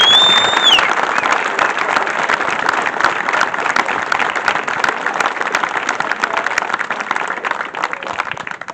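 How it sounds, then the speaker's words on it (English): Loud, sustained audience applause at a charity recognition event, dense clapping filling the whole stretch with a brief whistle-like tone near the start and no voices over it. "Give them a big round of applause."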